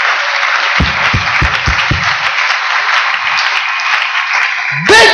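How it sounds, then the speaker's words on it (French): A church congregation applauds in a dense, steady wash of clapping, with a few louder separate claps early on. The applause stays loud throughout and ends in a brief burst of sound. "Applaudissons fort."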